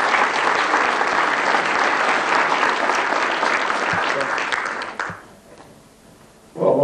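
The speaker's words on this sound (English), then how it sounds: "I'd like to round of applause for our friends here with the traditional serving uniform here." A dense round of applause at a film festival opening night, honouring guests in traditional serving uniforms. It holds loud and steady for about five seconds, then fades to a quiet lull before a fresh burst of clapping starts at the end.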